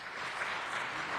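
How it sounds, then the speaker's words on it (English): An audience applauds at a city council meeting, a short, steady burst of clapping at moderate distance with no voices over it. "let's hold down the applause."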